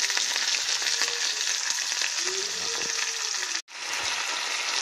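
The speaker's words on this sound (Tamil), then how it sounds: "அதுக்கப்புறம் நம்ம எடுத்து வச்சுருக்க ரெட் கேப்சிகமும் க்ரீன் கேப்சிகமும் ஆட் பண்ணுறோம்." Red and green capsicum tumble into zucchini already sautéing in a pan, giving a steady close frying sizzle with a brief pause near the end, no voices.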